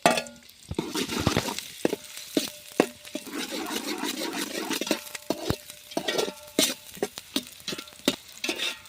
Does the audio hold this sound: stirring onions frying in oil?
yes